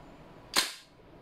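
A single sharp shot from a Colt licensed URGI 14.5 airsoft gas blowback rifle, one loud close crack with a short hiss of gas trailing off in an otherwise quiet room.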